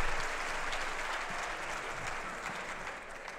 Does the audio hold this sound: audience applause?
yes